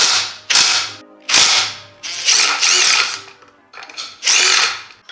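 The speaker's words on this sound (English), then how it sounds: "We got our handy dandy snap-on old school breaker bar slash torque wrench" An old-school Snap-on breaker bar doubling as a torque wrench ratchets in several loud close bursts of rapid clicking, separated by short pauses while working on 10 mm and 14 mm bolts.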